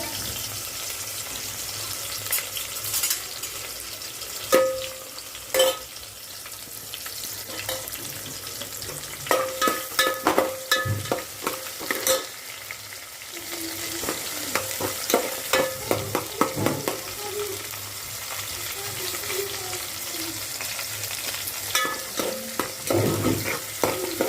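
Onions and green chillies frying in a pan for potato tomato sambar, with a steady sizzle broken by repeated spoon scrapes and clanks against the pan, busier in the second half.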